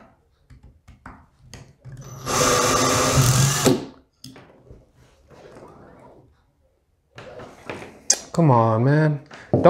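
A cheap drill-powered wire stripper whirs loudly for about two seconds while stripping two wires, a steady high-pitched motor buzz, with people talking quietly before and after.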